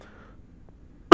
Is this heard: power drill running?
no